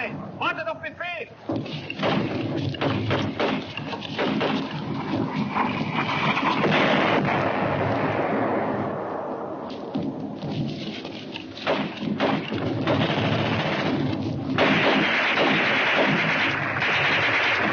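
Artillery and gunfire in a war game firefight after an order to open fire, with heavy booms and cracks rolling continuously over dense rumbling noise, loud and close, with voices shouting beneath the din.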